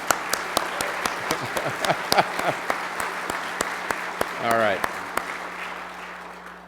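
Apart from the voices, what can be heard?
audience clapping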